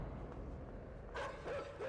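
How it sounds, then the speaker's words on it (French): Dogs in the video game Inside yip and bark faintly in the distance over a low, murky rumble, with the barks becoming clearer near the end. "J'aime pas les chiens dans le jeu"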